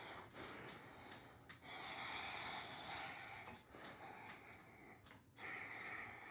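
Deep breaths drawn in and pushed out through the nose during a bouncing rebounder workout, a series of close, breathy nasal rushes with brief pauses between them.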